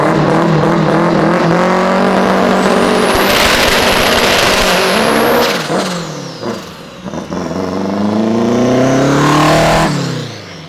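Modified Volkswagen Caravan roaring hard on a race track, a loud, close engine climbing through revs with sharp shifts and dips, then surging again, with brief tire squeal and no talk.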